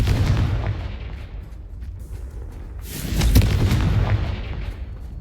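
Repeated fiery spell blasts from the Confringo and Bombarda spells in the video game Hogwarts Legacy: loud booming bursts that swell at the start and again around the middle, with rumbling low end and crackling tails.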